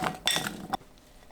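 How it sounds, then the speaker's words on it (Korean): Oil-coated garlic cloves tumble into an air fryer basket, making a few quick clinks and rattles in two short bursts and then a final tap, close and fairly quiet, with no talking. "에어프라이어에 담습니다."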